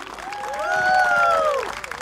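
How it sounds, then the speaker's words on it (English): At a Singapore Democratic Party election rally in Marsiling-Yew Tee, an outdoor crowd claps and cheers in a short swell that rises and then settles, with a drawn-out tonal whoop or voice riding over the applause. "Can we give a more rousing applause for this evening?"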